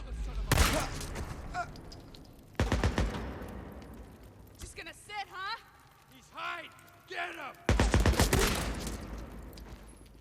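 Gunfire from the video game Days Gone: loud bursts of rapid shots in two clusters, at the start and near the end, with a quieter stretch between holding game sounds and voices.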